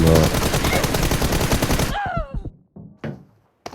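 A shooting video game fires loud gunshots in a rapid cluster, then a few separate shots follow with short gaps between them, while someone talks excitedly over the first half.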